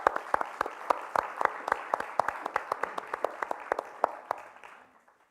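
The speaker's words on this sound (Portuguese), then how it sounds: "Uma salva de palmas." Audience applause at a book event for author João Pedro Marques: a few people clap in a steady, even beat of crisp, distinct claps for several seconds, then the clapping thins and fades out.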